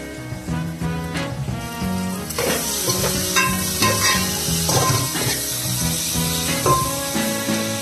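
Onions fry close up in a pan for chicken haleem, a steady sizzle broken by repeated scraping stir strokes, with a faint tonal background underneath.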